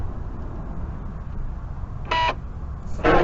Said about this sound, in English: That sound is a door lock actuator